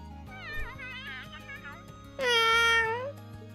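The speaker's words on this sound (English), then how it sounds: "Oh, cat!" A cat meows repeatedly in the Trails of Cold Steel video game, a run of wavering mid-pitched calls followed by one louder, longer, drawn-out meow near the end, set over a steady background music bed.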